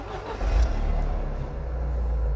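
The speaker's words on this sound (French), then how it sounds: "ce qu'on va faire c'est qu'on va démarrer le SLK" Mercedes SLK engine, which has a fault warning light, starting up and then settling into a loud, close, steady low idle rumble.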